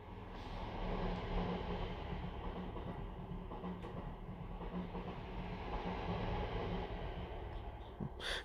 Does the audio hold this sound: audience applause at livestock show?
no